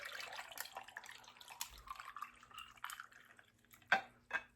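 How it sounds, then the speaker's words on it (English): Jello drink poured over ice, a faint liquid trickle with scattered drips and a couple of sharper clinks or splashes near the end. "So she would pour the Jello water over ice,"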